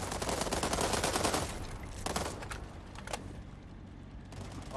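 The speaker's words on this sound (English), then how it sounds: "Oh, there's a tank rolling up, dude. There's a whole ass tank." A tank rolls up amid dense gunfire in a war video game, rapid rattling bursts and shots layered over a continuous rumbling, loud and busy before thinning out slightly.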